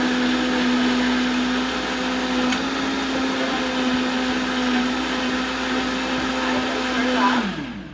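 A blender whirs at a constant high speed while blending a frozen blueberry smoothie, a loud, steady motor drone lasting several seconds before spinning down at the end.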